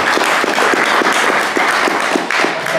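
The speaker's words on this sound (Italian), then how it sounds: "E lo vogliamo salutare con un applauso." An audience applauds at a Rome film premiere, steady dense clapping throughout with scattered sharper claps, close and continuous, no voices over it.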